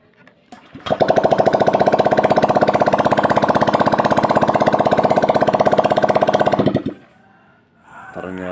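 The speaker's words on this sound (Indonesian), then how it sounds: "biasanya saya menghidupkan motor untuk mengetahui mudah atau tidaknya motor" A Honda Vario 125 motorcycle engine, rebuilt with new block, piston and cylinder head and not yet fitted with its exhaust, starts and runs at a loud, rapid, steady idle for about six seconds before shutting off.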